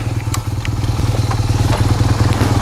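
A BMW R 1200 GS motorcycle being ridden: a loud, close, steady boxer-twin engine throb pulsing rapidly and evenly, with occasional light knocks and clatter from the ride.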